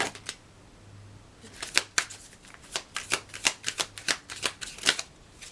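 A deck of tarot cards being shuffled by hand, a series of crisp riffling flicks and soft slaps, quiet and close, picking up into a quicker run of shuffles after a few isolated snaps.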